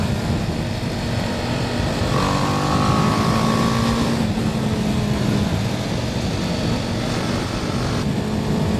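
A BMW G310R motorcycle engine revs steadily at high rpm, a loud, sustained buzzing drone with a brief rising whine partway through.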